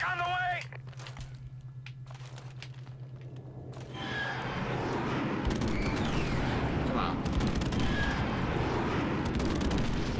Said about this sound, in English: Let me use the freaking airstrike.